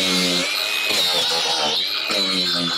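A power grinder works the metal roof around a screw during a seam leak repair, a loud, harsh close whine with wavering pitch and brief dips as the tool bites and lifts.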